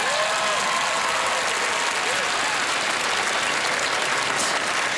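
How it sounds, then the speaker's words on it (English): Loud, dense applause from a studio audience at a televised magic show fills the full stretch, steady and close with no break. "Place the mask on, you will get the giantest round of applause you've ever received in your life."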